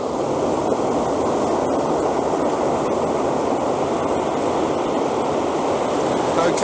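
Sea waves washing over sand on a cold winter beach at Porthcurno near Land's End: a loud, steady roar of surf and rushing water, mixed with wind buffeting the microphone, continuous throughout.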